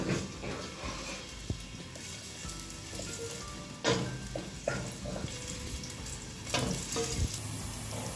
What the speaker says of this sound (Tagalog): Ayan, igisa muna natin yung bawang.